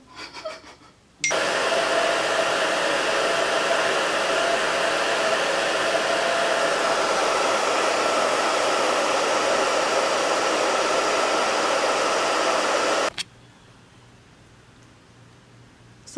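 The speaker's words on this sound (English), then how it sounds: "I need to stop playing in this hair and go dry it" A hair dryer runs steadily on wet hair at close range, a loud, continuous whooshing roar that starts abruptly after a brief moment of quiet and cuts off sharply about twelve seconds later.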